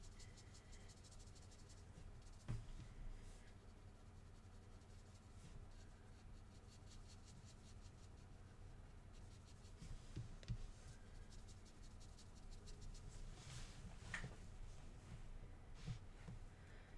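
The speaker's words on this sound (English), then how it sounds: "scratch away at the paper without too much worry" Polychromos colored pencil scratching across paper, a faint, steady rasp of strokes with a few sharper scrapes standing out, close and alone in a quiet room.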